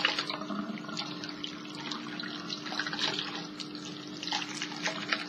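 Tap water runs steadily over clip-in hair extensions as they are rinsed out, making a continuous close splashing with a faint hum underneath.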